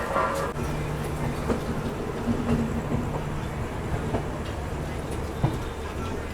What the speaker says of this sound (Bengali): আমাদের ট্রেন বেরিয়ে গেল শিয়ালদা স্টেশনে 14 নম্বর প্ল্যাটফর্ম থেকে